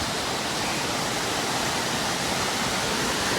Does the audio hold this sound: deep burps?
no